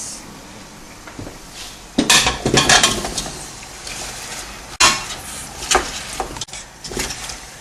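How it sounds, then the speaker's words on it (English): Big cut potatoes tumble into a cooking pot with hard clatters and knocks, followed by scraping and stirring of pot and utensils; close and fairly loud, no talking. "We've cut 5 really big potatoes, this size, and now we can add it to the pot."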